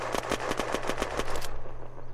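An AK rifle fires on full auto in Unturned, a rapid run of about ten evenly spaced loud shots that stops abruptly, with a low rumble continuing after.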